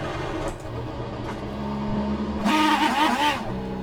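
GT500 race car engine in rFactor 2 going through its starting procedure at Brands Hatch, a steady idle-like drone that swells into a louder rev near the end, heard alone without talk.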